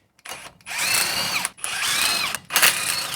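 Power tool undoing the U-bolts on an N80 Toyota Hilux axle, two loud sustained whirring bursts of about a second each with a winding pitch, separated by short pauses, close and alone.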